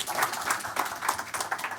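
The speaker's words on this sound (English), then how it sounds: "How about a great round of applause for this group?" An audience at a tech conference talk claps for a team in a soft, scattered round of applause, fairly distant and continuous throughout.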